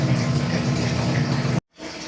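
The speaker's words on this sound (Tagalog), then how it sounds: "Mahina pa rin ang tubig." Water runs steadily from a tap in a continuous rushing stream, then cuts out abruptly before a quieter, weak flow resumes.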